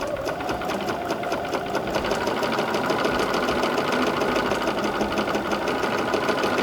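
A sewing machine stitches a gentle meander in free-motion quilting, its needle running in a steady, fast, even whir that carries on close and unbroken for the whole stretch.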